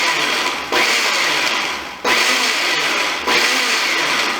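A blender pulses a blueberry protein shake in three short bursts, each a loud whirring roar that cuts in abruptly and fades slightly before the next.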